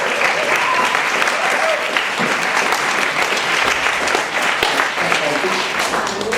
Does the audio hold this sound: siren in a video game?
no